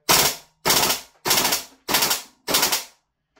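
An Umarex VFC MP5K gas blowback airsoft SMG fires five short full-auto bursts, loud and close, each a rapid clatter of shots followed by a brief pause.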